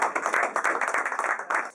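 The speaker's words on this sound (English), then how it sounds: "Florence, please give her a hand of applause." Applause breaks out at a CPDM-UK section executive meeting at the Hilton Wembley, a brief burst of many hands clapping fast and dense, with a voice faintly underneath.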